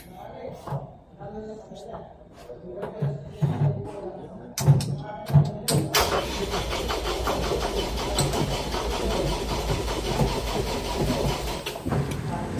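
A screw type compressor unit's engine cranks in a few sputtering attempts, then catches and settles into a loud, steady running drone, with people talking over the early cranking.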